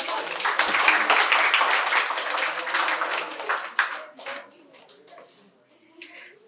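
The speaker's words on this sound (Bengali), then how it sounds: "জোরে হাততালি হয়ে যাক একবার।" An audience at a medical college quiz competition claps loudly, a dense burst of applause that thins into scattered claps and fades toward the end.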